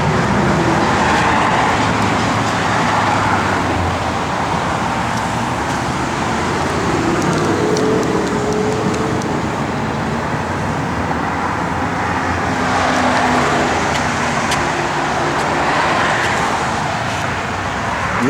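A 1969 Pontiac Firebird convertible with an added sway bar drives along, a steady broadband road and engine rumble with wind and tire noise rising and easing slightly over a long stretch, no talk.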